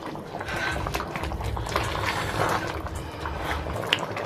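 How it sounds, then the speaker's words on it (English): A pot of Nigerian soup with leaves and okra bubbles at a steady boil, a continuous close, low-level churning and popping of liquid with occasional sharper bursts. "let me just leave the leaves to just boil for 2 more minutes"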